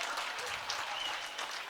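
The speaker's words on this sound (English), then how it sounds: "The crowd is erupting for the first diver to actually get points." Crowd at a boys high school swim and dive meet bursts into cheering and applause for a diver, a dense, steady wash of clapping and shouts filling the whole stretch without a break.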